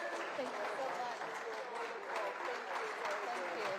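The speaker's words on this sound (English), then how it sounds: "let's give a big round of applause to Secretary Jennifer Granholm, Congressman James Clyburn." A town hall crowd at a clean energy event applauds the Energy Secretary and a congressman, a fairly faint, even patter of many hands with voices mixed in.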